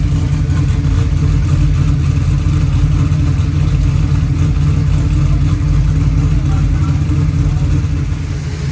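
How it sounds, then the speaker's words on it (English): A 434ci small block V8 with 11:1 compression idles and runs steadily after firing up, a loud, continuous low rumble with a lumpy, throbbing rhythm that holds close and constant throughout. "Finally, it was time to fire it up and see what it sounds like."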